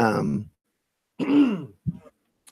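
A man clears his throat twice, a raspy vocal rumble followed by a shorter gruff burst, close to the microphone with silence between.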